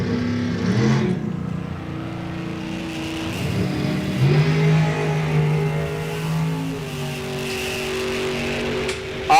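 Drag racing cars at an ET Series bracket event launch together, the loud engines holding a steady roar with sustained engine tones and a rise in pitch partway through. Nobody speaks.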